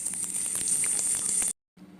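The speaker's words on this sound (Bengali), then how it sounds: "সাদা তেল গরম করে চপগুলো আমি ভেজে নিচ্ছি।" Prawn chops fry in hot white oil with a bright, steady sizzle, quiet and close, cut off by a brief silence before the sizzling resumes.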